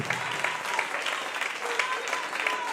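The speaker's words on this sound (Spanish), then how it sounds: "Dele un aplauso fuerte al Señor." Church congregation clapping steadily at a Spanish-language Christian sermon, dense sustained applause with a faint voice underneath.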